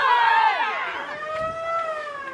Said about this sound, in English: There's the siren in the background.